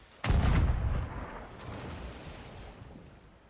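A cannon fires aboard a ship in Sea of Thieves, one loud booming shot that decays into a rumbling tail, with the sea and wind washing on underneath.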